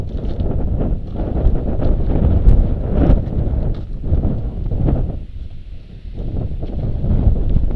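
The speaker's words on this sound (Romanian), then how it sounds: "vântul ăsta e puternic" Strong mountain wind in the Caraiman valley near Jepii Mici in the Bucegi mountains, roaring steadily across the microphone with gusty swells and dips throughout, loud and close, with no talk.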